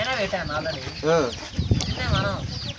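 A Sankranti fighting rooster (pandem kodi) clucks repeatedly and loudly at close range during a herbal training session, with people talking and handling noise around it.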